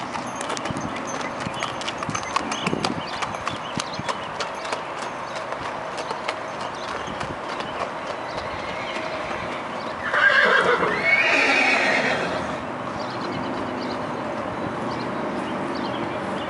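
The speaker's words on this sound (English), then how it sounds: "It's like a liver chestnut gelding." A liver chestnut gelding, a horse that rides and drives, clip-clops steadily on its hooves, then lets out a loud whinny midway before the hoofbeats carry on under a noisy outdoor background.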